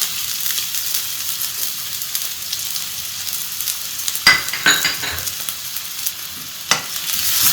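Half a small chopped onion hitting hot oil in a pan for street-style chicken fried rice, a steady loud sizzle with sharp stirring scrapes and clatters partway through.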